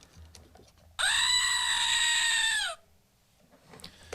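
A person lets out a loud, sustained goat-like scream lasting nearly two seconds, steady and strained, then cutting off into quiet room tone.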